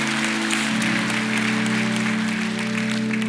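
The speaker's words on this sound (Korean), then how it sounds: "박수로 감사합니다." A church congregation at a Sunday service applauds in a continuous, dense wash of clapping, with a low sustained organ or keyboard tone underneath.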